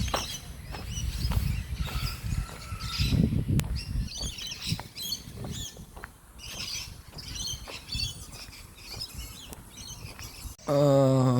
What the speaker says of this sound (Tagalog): naririnig nyo ba? Mga ibon. Ang dami ibon.